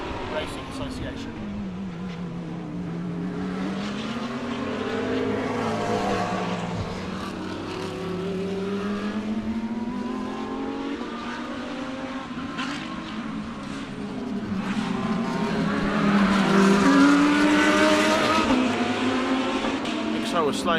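GT race cars circulate during a South African GT Racing Association round, a Lamborghini slowing out of turn 1; engines drone and rise steadily throughout, a commentator talking over the continuous racing noise.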